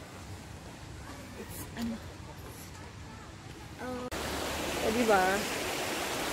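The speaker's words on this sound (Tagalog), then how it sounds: "Malinis yung ilog dito sa malamig." Clean river stream flowing in a nature park in Bad Harzburg, a steady rushing wash of water that grows louder midway, with people talking over it.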